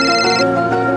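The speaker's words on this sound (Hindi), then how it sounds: "तभी दया भाभी का फोन आ जाता है" A telephone rings with an incoming call in a scene from the TV sitcom Taarak Mehta Ka Ooltah Chashmah, a loud bright electronic ring that cuts off partway through, alone without talk.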